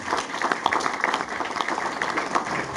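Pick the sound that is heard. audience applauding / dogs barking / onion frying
audience applauding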